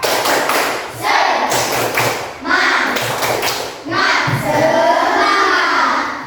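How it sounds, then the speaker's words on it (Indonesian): A classroom of children claps a rhythmic spirit clap together, loud patterned bursts of claps and thumps in repeating groups, with young voices shouting and chanting along. "kita tepuk semangat dulu ya"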